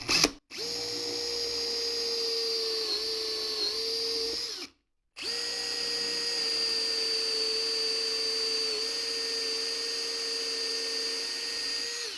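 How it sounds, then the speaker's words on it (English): A power drill whines steadily at close range for several seconds, drilling holes in wood for a stick chair, pauses briefly, then runs again with a sustained high-pitched motor drone. "So we will get that reset here and drill our holes."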